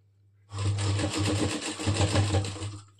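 A sewing machine starts up and stitches the side joint of a blouse, a close, steady motor hum with rapid needle chatter running for about two and a half seconds after a quiet start, with a couple of brief dips.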